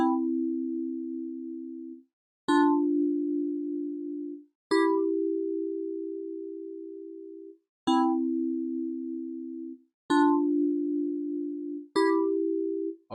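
Synth keyboard tones from a stock FL Studio plugin, six sustained notes each held about two seconds with a bright attack and slow decay, stepping between close pitches, alone with no talking.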